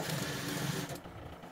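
Sewing machine running steadily while stitching lace onto the neckline of a small baby frock, a continuous close whirring drone that drops off near the end.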